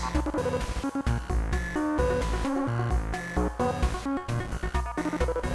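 A Befaco Rampage and Muxlicer synthesizer setup in vowel formant wave mode plays choppy, vowel-like tones in an uneven repeating Euclidean rhythm, with shifting pitches and a reverberant electronic texture, no voices.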